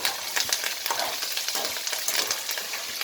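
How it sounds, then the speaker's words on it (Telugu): Peanuts frying in hot oil, a loud, continuous close sizzle with bubbling and occasional stirring clatter throughout. "వేరుశనగ గుళ్ళు సగం వేగుతూ ఉన్నప్పుడు"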